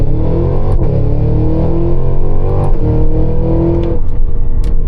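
A Cadillac Escalade V in a launch-control 0 to 60 run, its engine giving a loud, steady drone that climbs in pitch, broken by brief shift-like dips.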